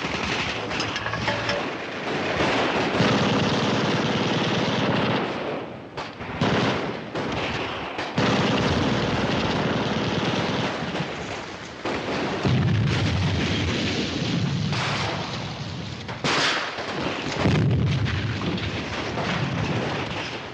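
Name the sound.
gunfire and artillery fire in a 1953 war film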